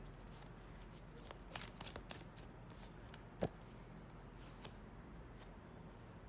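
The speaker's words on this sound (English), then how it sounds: "I'm gonna shuffle right in front of you" A deck of oracle cards being shuffled by hand, soft and quiet riffling with a faint snap partway through, low and close in a still room with no one speaking.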